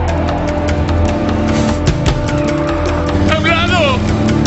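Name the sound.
car accelerating in a movie chase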